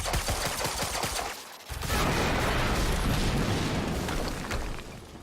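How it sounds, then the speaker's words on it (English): An explosion in the video game Quantum Break hits about two seconds in, a sudden loud blast that swells into a sustained, rumbling roar of debris and fire, following a brief lull after rapid gunfire-like clatter. "we just heard an explosion"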